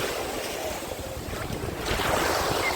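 Sea waves at a beach in Odesa wash in under steady wind noise, a broad continuous rush that swells louder near the end, with no talk.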